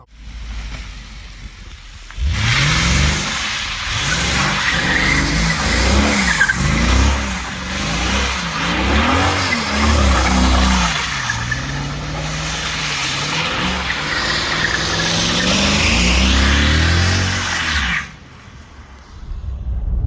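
An original Mercedes W210 E55 AMG V8 revs and pulls away, the engine note rising and falling through repeated gear-change sweeps, loud and close, rumbling on steadily for most of the stretch before cutting off.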